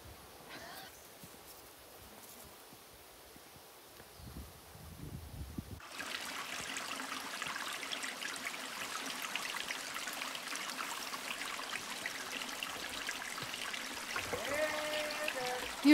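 Forest creek water flows in a steady, close rushing wash, softer for the first few seconds and then louder and fuller for the rest, with no other clear sounds over it.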